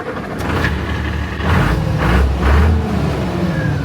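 A loud tractor engine rumbles steadily nearby, surging in a few rhythmic pulses as it revs.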